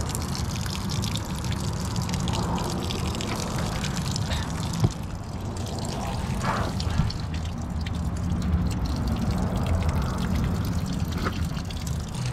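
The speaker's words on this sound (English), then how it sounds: "I'm using hot water to clear it out" Steady rush of water pouring and trickling through a clogged sunroof drain hose on a 2006 Jeep Commander, hot water flushing it clear, a continuous wet flow with faint voices underneath.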